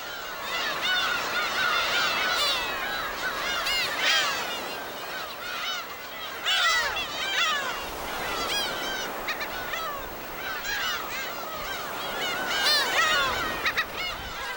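Black-tailed gulls call over the sea on Dokdo island in a busy overlapping chorus of nasal, mewing cries. Bursts rise and fall throughout with no pause.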